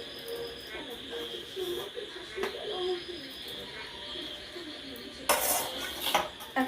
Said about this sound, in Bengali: এখন এটা আমি ভালো করে মেখে নেব।